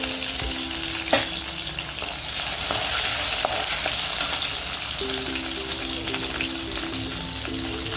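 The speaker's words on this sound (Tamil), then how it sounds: "அதுவும் நல்லா பொரிய விட்டுருங்க." Mustard seeds and urad dal splutter in hot oil while paniyaram is being made, a close, dense, continuous sizzle and crackle with scattered pops.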